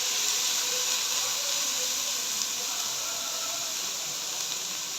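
Finely chopped onions fry in hot oil in a pan, giving a steady, loud sizzling hiss that continues unbroken throughout.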